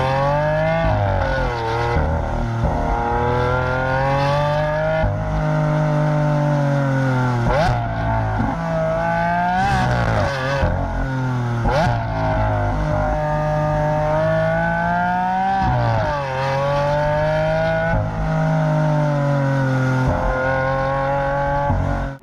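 A Lamborghini Aventador SV Roadster with 741 horsepower accelerates hard on an open road, its loud close engine wailing through repeated rising revs with short dips at each gear change, continuous and unbroken.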